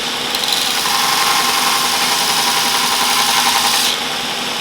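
A Robert Sorby Pro Edge sharpener grinds a woodturning tool held in a jig, giving a loud, steady abrasive whir that runs for about three and a half seconds before dropping back to a quieter motor hum.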